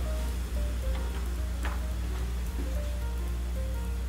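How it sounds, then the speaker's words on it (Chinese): Soy braising broth with Shaoxing wine and a spice packet for braised chicken legs simmers in a pot over medium-low heat, giving a steady soft bubbling wash with a faint tonal hum beneath. "汤再次沸腾后转中小火"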